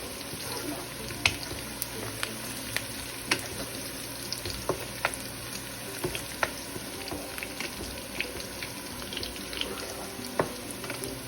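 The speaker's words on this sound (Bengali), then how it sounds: "এইদিকে পেঁয়াজ ভাজা হচ্ছে" Onions frying in a pan, a quiet, steady sizzle broken by frequent small sharp crackles and pops throughout, with no talking.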